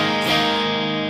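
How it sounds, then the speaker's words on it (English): A Fender Strat electric guitar on its middle pickup, played through an amp with effects, rings out as one sustained, bright strummed chord that swells slightly and holds steady. "I'm going to start in the middle position,"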